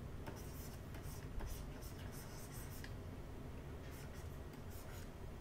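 A pencil sketching a quick gesture drawing of a head on paper, with soft, scratchy strokes. The strokes come in short clusters and run quietly and steadily near the listener.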